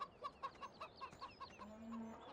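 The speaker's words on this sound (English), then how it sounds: "It seems that the chickens are dropping eggs everywhere." Chickens in the farming video game Farming Simulator 17 cluck in a steady run of short, evenly spaced calls, soft and a little distant, with a low hum near the end.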